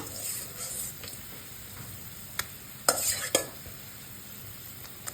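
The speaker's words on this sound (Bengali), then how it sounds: "এই পর্যায়ে আমরা দিয়ে দেব আমাদের সিদ্ধ করা আম" Boiled raw mango is stirred into thickening boiling sugar syrup for chutney, giving a soft bubbling sizzle with a few sharp utensil clinks against the pot.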